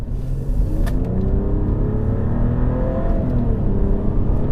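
A pre-2006 Bentley accelerating on a quiet country road, its engine rising in a deep, steady rumbling growl that stays loud and close for several seconds, no talking.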